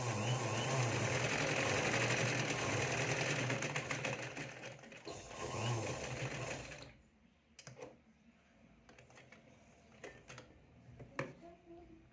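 Sewing machine stitching a puff sleeve, running in a loud, steady rapid clatter for several seconds before stopping, followed by quieter handling clicks and faint rustles.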